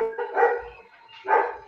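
A dog barks twice, two distinct tonal barks about a second apart, fairly close and clear against a quiet background.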